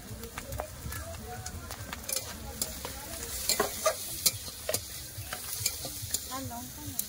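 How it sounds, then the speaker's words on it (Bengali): Masala with turmeric and chili powder sautés in a pan for a fish curry, a spoon stirring and scraping in quick repeated strokes over a low sizzle, close, with faint talk in the background. "লঙ্কা গুঁড়ো দিয়ে ভালো করে মশলাটা কষে নিয়েছে।"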